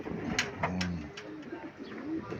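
Racing pigeons in training coo softly in a few low, throaty phrases, faint and somewhat distant, with brief flutters and light background noise.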